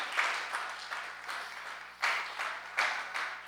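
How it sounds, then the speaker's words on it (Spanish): Church congregation clapping in praise, a soft, fairly distant patter in uneven waves that swells and fades several times over a few seconds, with a steady low hum underneath. "Dale un fuerte aplauso al Señor."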